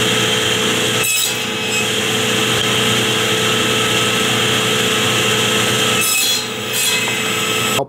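Power saw cutting wood pieces for a bridle joint, a loud continuous whine running nearly the whole time with two short dips where the blade eases off, no talking.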